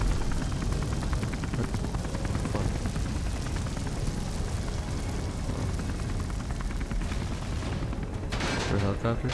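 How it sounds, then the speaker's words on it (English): A helicopter in the video game Beyond: Two Souls, its dense rotor thrum buried in a loud, continuous mix of gunfire and explosions, with a voice speaking over the chaos. "I swear to God, that was a helicopter"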